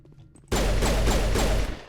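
Cerberus sniper gunfire in the Mass Effect video game: after a quiet start, a sudden loud burst of rapid shots repeats in a steady rhythm for over a second, close and alone.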